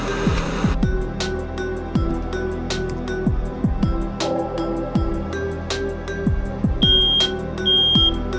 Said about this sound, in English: I don't know where that beeping came from.